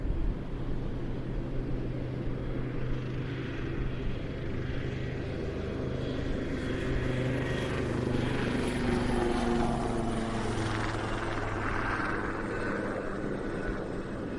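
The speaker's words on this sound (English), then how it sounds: "Now from the left, a Wildcat HMA-2 from 815 Squadron of the Royal Navy." A Royal Navy Wildcat HMA-2 helicopter from 815 Squadron departing at the Royal International Air Tattoo, a loud steady rotor and turbine roar that swells and shifts pitch as it passes at moderate distance.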